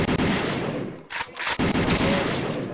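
Rapid gunfire rattles through the Taarak Mehta Ka Ooltah Chashma video game, loud bursts of automatic shots with a brief gap before the shooting resumes.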